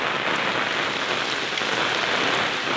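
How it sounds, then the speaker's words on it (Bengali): Heavy rain from Cyclone Remal pours down in Sarishabari, a dense, loud, unbroken hiss of drops striking surfaces. "দেখতে পাচ্ছেন আমাদের সরিষাবাড়িতে কি পরিমাণ বৃষ্টি হচ্ছে।"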